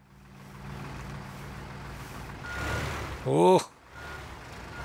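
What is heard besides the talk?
vehicle reversing beeps in the video game Teardown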